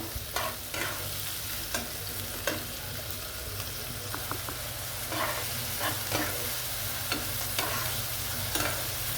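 Onions frying with a little salt in a pan give a constant close sizzle, with scraping strokes of a spatula recurring every second or so and no speech.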